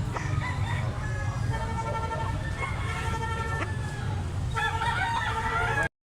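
Rooster of a lemon bloodline crowing nearby in several drawn-out calls, with clucking and background noise from other fowl and outdoor sounds.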